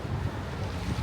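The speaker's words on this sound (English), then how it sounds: "Fortunately, it's a bit windy today." Steady outdoor wind gusting in Bucharest, a broad low rumble of buffeting against the microphone that swells and eases over the moment, with no voices.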